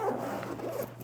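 Close and fairly loud, a zipper on a photography backpack rasps shut in one continuous pull lasting about a second, with no talk over it.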